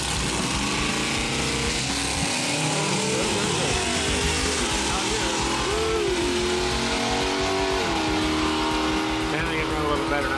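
A Mopar minivan accelerates hard on a drag-strip timed run, its engine roaring loudly with rising and falling pitch sweeps as it shifts through gears, while people talk over the din.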